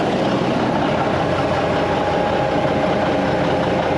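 A D9G tractor's engine runs steadily, a loud, constant heavy rumble with a broad, unchanging roar and no breaks across the whole stretch.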